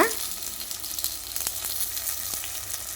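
Chopped big onions and curry leaves sizzle steadily in hot tempering oil for a Tamil white peas vegetable kuzhambu, a close, continuous frying hiss with occasional crackles and no talking.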